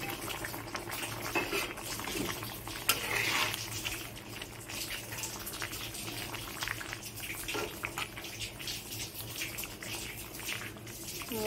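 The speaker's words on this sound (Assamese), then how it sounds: "অলপ দেৰি উতলিব দিম" A covered pot of water boiling on a stove, a steady soft bubbling and hiss running without a break, fairly faint and close, with no voices.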